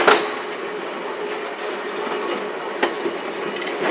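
Ride in a passenger car behind Heisler geared steam locomotive number 6 on the Durbin Rocket excursion train, a steady rolling rumble with occasional wheel clicks and squeals, continuous and moderately loud.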